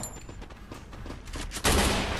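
Gunfire from the Free Fire battle royale game, a rapid rattle of shots running throughout that becomes a louder, denser burst near the end, with no talk over it.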